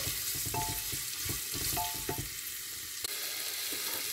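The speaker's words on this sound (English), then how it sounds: "Just cooking carrots just for 2 minutes." Carrots sizzle steadily in a pan for oatmeal kichidi, close and even, with a few clinks of a stirring spoon against the pan and no talk.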